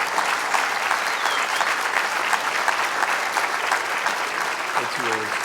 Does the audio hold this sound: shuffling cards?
no